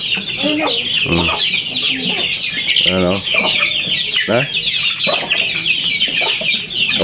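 Native chickens cluck and squawk in a busy flock while being fed ground corn mixed with feed during the morning feeding, loud and close, with bursts of clucks and brief calls over constant chatter and a person talking.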